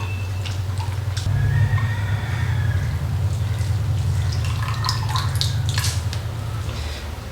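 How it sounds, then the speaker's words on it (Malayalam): Potato washed by hand in plain water in a bowl, with soft splashing and dripping over a steady low hum, close and continuous, with no talk. "പച്ചവെള്ളത്തിൽ നല്ലവണ്ണം ഒന്ന് കഴുകിയെടുക്കണം."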